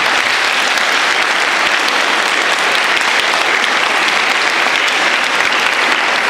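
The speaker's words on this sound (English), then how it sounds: "So can we get a round of applause for Nintendo?" Audience applause for Nintendo during the opening ceremony of GX Australia 2017, a gaming convention, in the auditorium: dense, sustained clapping from a large crowd that fills the whole stretch at a steady level, with no talk over it.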